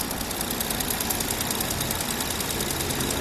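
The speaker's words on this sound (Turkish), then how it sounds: "Zaten motorun sesi de değişti arkadaşlar." A car engine runs steadily after an antifreeze change, giving a continuous close idle with a fast ticking, knocking rhythm and no pauses.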